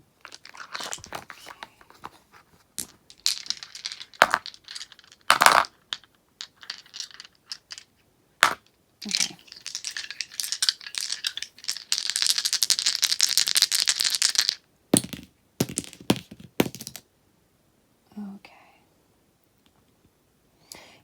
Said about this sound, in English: So we are rolling the 5th set of dice, and that is the actions dice.